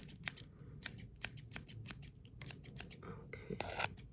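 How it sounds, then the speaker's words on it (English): Scissors snip through hair in a close, quiet series of crisp rhythmic cuts, about a dozen in quick succession, with faint rustling between. "I'm just gonna cut a little bit of that off."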